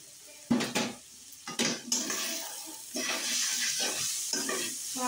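Vegetable bhaji frying in a pan, with a utensil clattering and scraping against the pan in several sharp strokes, then a steady sizzle with softer stirring scrapes running underneath.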